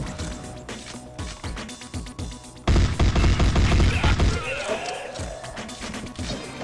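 A grenade detonates in the shooter game DiRT: Origin of the Species: a sudden loud blast partway through cuts across scattered gunfire and thuds, then rumbles and fades under continued action.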